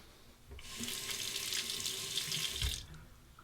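A razor is rinsed under a running tap: a steady splashing stream of water runs for about two seconds, close and moderately loud, then shuts off.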